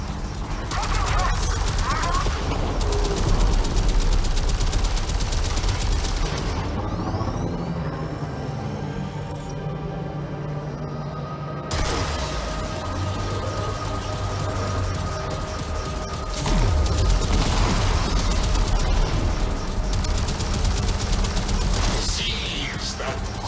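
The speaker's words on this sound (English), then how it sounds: "Lock on! Launch torpedoes!" Railjack torpedoes launching and firing in Warframe, shown at the 2019 TennoCon. Loud bursts of rapid weapon fire and blasts come in sections, with mechanical whirs and spoken voices between them.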